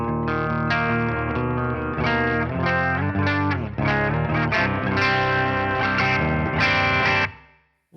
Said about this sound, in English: You could definitely dial in some rock tones if you go to voice 2, which is Will Lowther's voice.